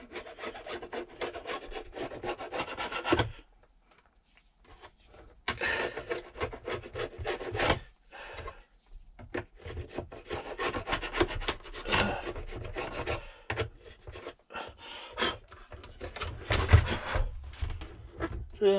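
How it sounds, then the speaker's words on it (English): Old glue being scraped off a car glovebox lid with a small hand scraper on a Citroen C4 Grand Picasso, heard as close, rough rasping strokes in uneven bursts with a short quiet pause partway through. "So first thing I do is scrape off as much of this old glue as I can"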